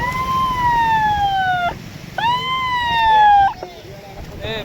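A police car siren wails in rising and falling sweeps during a Krishna river flood in a Maharashtra village, fairly close and loud, with two long swoops and a shorter one over a steady outdoor rumble.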